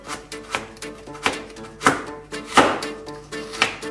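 A knife dices a carrot on a cutting board, about a dozen crisp, close chops in a loose, uneven rhythm, with no talking.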